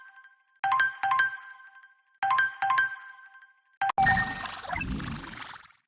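A cartoon phone rings with bright electronic ringtone bursts in two paired rounds, followed by a louder, noisy swell of music or effects at the end.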